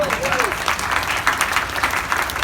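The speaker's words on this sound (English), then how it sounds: "We can give applause for that." Applause from a studio audience at a celebrity interview, a steady wash of many hands clapping at moderate loudness throughout, with a brief voice faintly audible underneath at the start.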